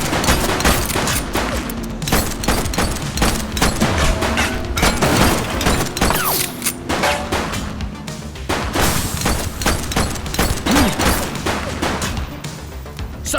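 Police video game The Precinct in a carjacking shootout: dense, sustained bursts of rapid gunfire crackle and boom loudly and almost without pause, layered over in-game background noise.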